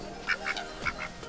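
On a duck tour, a child makes a few short, nasal quacking calls in imitation of a duck. The calls come in a loose, uneven rhythm at moderate volume, with no other talk.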